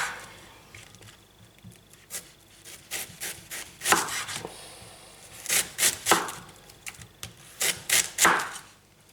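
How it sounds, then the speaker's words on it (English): A knife roughly chops an onion on a board, with sparse soft knocks at first and then clusters of sharper, louder chops in quick bursts, close and alone. "Now the onion's roughly chopped"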